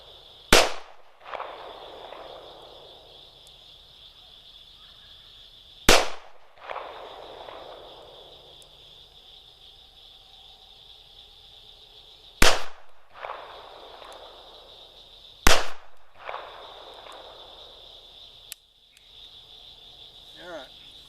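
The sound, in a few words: Smith & Wesson 642 revolver gunshots, one-hand slow fire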